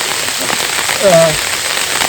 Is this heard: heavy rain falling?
yes